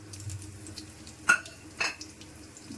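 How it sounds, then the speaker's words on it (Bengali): Dried red chilli, bay leaf and whole spices are tempered in hot oil, producing a low, faint sizzle with two short sharp crackles. No one speaks. "এবার ফোড়নে দিয়ে দিচ্ছি শুকনো লঙ্কা, তেজপাতা আর দুটো গরম মশলা।"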